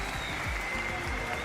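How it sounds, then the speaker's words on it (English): A watch party crowd at a Fortnite FNCS viewing event cheers and applauds in a steady, dense roar of clapping and voices, continuous and fairly loud throughout. "This crowd is going crazy."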